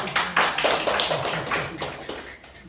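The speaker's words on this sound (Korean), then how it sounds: "박수 한번 해주세요" A short burst of clapping from a few people, uneven and close, fading after a couple of seconds.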